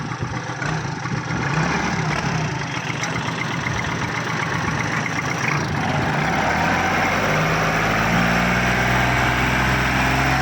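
A Kubota 36-horsepower farm tractor engine runs steadily nearby with a loud, rough diesel chug that shifts to a lower, smoother idle partway through.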